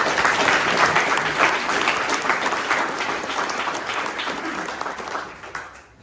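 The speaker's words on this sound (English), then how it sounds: "He deserves a round of applause for that." Sustained applause from a room full of people at an Alabama political gathering, dense and steady for several seconds before tapering off near the end, with no voices over it.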